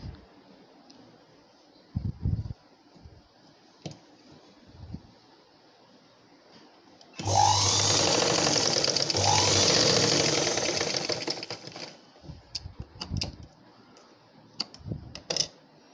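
Sewing machine stitching blouse fabric: a burst of rapid, whirring mechanical stitching that runs for about five seconds midway, briefly pausing once, set between quieter clicks, taps and handling noises before and after.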